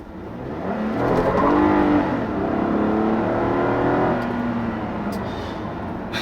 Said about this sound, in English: Toyota's V6 makes a very nice noise.